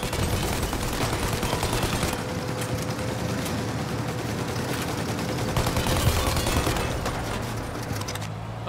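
Dense, continuous rapid gunfire crackling nonstop for several seconds, loud and close, like automatic weapons, in the game Mafia: Definitive Edition, fired from a plane.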